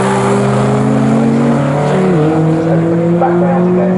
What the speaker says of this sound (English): Here comes the second place car, number 6